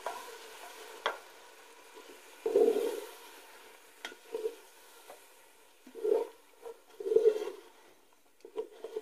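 Chicken korma with fresh yogurt being stirred in a pan with plenty of oil: repeated scraping, mixing strokes come every second or two over a soft, constant sizzle, with no voices.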